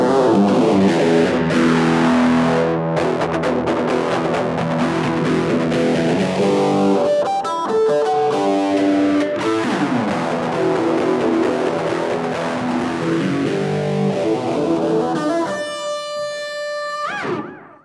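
Fender Squier electric guitar played through heavy distortion, loud sustained chords with sweeping pitch slides rising and falling, ending in a ringing high chord that fades out, no talking.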